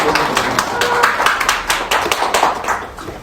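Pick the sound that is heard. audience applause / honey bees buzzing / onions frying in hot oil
audience applause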